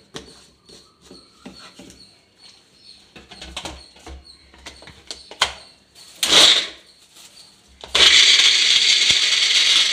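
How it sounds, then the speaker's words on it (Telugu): Scattered clicks and clatter give way to a mixer grinder blending coconut with water, roaring into a loud, steady whir that runs to the end. "మళ్ళీ దీన్ని మిక్సీ చేసుకోవాలి"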